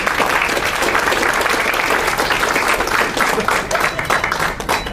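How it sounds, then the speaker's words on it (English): A large audience at a State of the City address claps enthusiastically and continuously, a loud, even wash of applause with individual claps popping through. "So the officers deserve a round of applause for all that they do."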